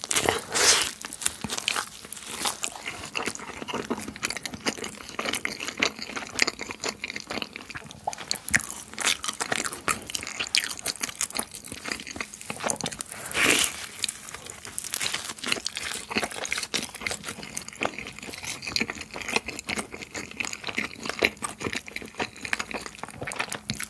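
Close, crisp bites and crunchy chewing of a wood-fired margherita pizza with charred crust and basil, loud repeated crunches and mouth sounds throughout with no talk.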